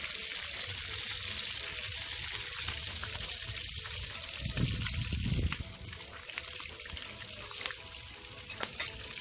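Fish frying in a pot outdoors. A steady wash of sizzle and bubbling runs throughout, swelling briefly in the middle, with scattered faint clicks and no voices.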